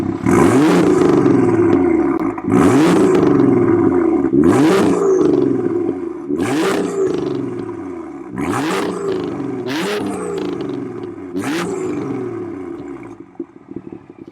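A BMW M2 LCI with the N55 engine and a Stage 2+ tune revs hard in repeated bursts, about seven throaty roars rising and falling in a steady rhythm, loud and close with no talking.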